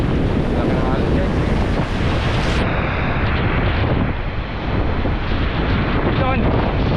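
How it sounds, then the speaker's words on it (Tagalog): Large sea waves breaking on an island shore, a steady loud roar of surf with heavy wind buffeting the microphone throughout, no clear gaps between swells. "Takot na kasi ako sa alon guys sa malaki."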